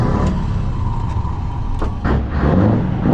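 A fully customised truck's engine rumbles steadily as it drives, a loud, continuous low drone with brief mechanical knocks and rattles rising over it partway through.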